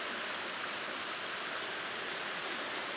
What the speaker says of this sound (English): This beautiful waterfall to shoot.